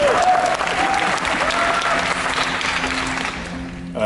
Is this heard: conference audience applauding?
yes